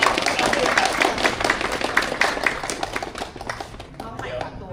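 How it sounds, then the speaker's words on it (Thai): A crowd at a cycling club opening event claps to welcome the club's incoming president, a dense burst of applause that holds steady, then thins and fades near the end. "ก็ขอพวกเราปรบมือต้อนรับว่าที่ประธานชมรม"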